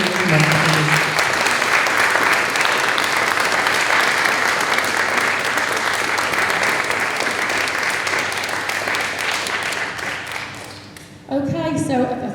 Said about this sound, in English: can we have a round of applause for your mum, please?